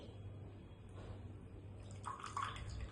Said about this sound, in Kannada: ಈಗ ಡಿಕಾಕ್ಷನ್ ಹಾಕ್ತಿದ್ದೀನಿ